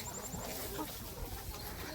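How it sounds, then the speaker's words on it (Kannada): Hens in a laying shed cluck softly in a few brief, scattered calls over a dense, noisy background throughout. "ಕೋಳಿ ಎಲ್ಲ ಮೊಟ್ಟೆ ಇಡೋದಕ್ಕೆ ಬಂದಿದ್ದಾವೆ"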